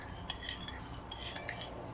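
A spoon stirs chilli pickle mixture with salt and sugar in a bowl, producing light, irregular clinks and scrapes of metal against the container, quiet and close with no talking.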